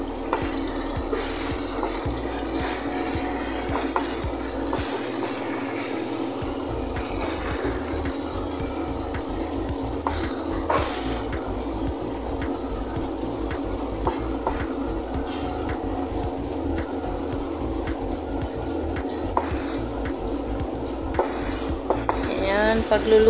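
A second batch of chicken fries in a pan of oil, giving a continuous close sizzle with occasional stirring scrapes and clinks throughout, no voices.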